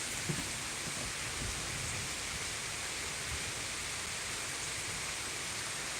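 Heavy rain in Thurmond, West Virginia, a steady hiss of downpour on surfaces, constant and even, with a few faint low bumps early on.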